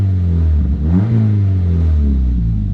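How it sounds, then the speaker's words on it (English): Engine of a manual Mazda 3 with a muffler delete and big tips revving, a loud, close rumble whose pitch climbs in one rev and settles back to a throaty idle. "I'll show you guys the muffler delete, do a few revs for you guys"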